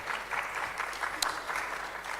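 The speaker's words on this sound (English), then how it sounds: "I think that deserves a hand clap." Brief, modest applause from a conference audience at a national health and human rights gathering in Uganda, a soft steady patter of hand claps at moderate distance lasting a couple of seconds.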